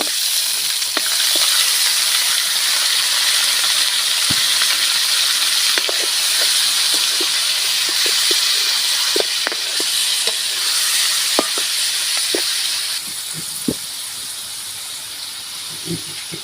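Bulalo beef broth goes into a pan of sautéed onion and ginger, giving a loud continuous frying hiss with scattered pops and clicks that eases slightly toward the end.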